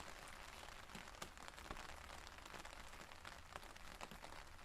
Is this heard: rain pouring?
yes